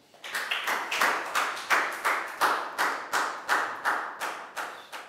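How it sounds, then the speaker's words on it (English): A round of steady clapping at an even rhythm, fairly close and alone, for a pupil in a Year 4 maths lesson. "High five and a big round of applause for Lakdow, guys."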